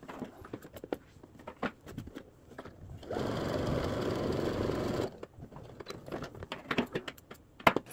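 A sewing machine stitches a farmhouse-style skirt in one steady two-second burst of rapid, even mechanical chatter, set between quiet handling taps and fabric clicks.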